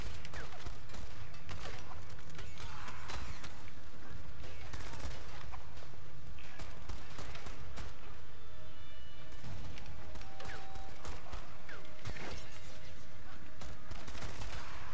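Repeated shotgun blasts and scattered gunfire in the video game Strider, irregular loud reports over a busy mechanical game background, with no speech.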